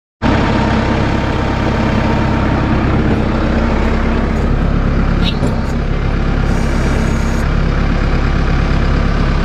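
A Case IH 75C tractor engine idles steadily with a constant low rumble, loud and continuous throughout, with no talk.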